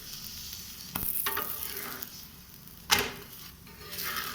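An aloo paratha fries in a pan with a soft, steady sizzle. Two or three sharper bursts of crackling break in as it is pressed or turned, and the whole sound stays quiet and close.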